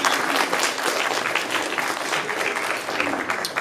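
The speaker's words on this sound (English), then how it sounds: "Yes, everybody, round of applause for everybody." A room full of audience members applauds steadily at a reading event, dense clapping holding at an even level from start to finish with no voices on top.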